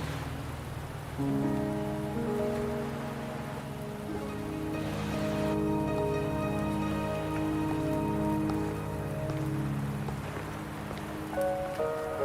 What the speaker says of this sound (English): Are you trapped here by the rain?